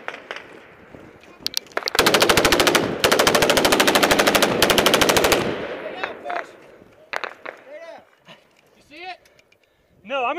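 M240B and M249 machine guns fire in a long, loud sustained burst in a combat setting against Taliban positions, followed by scattered shots and shouting voices.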